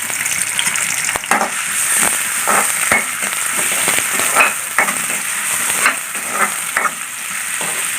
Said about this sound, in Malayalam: നമുക്കിതിലേക്ക് ഇഞ്ചി വെളുത്തുള്ളി ഇടാം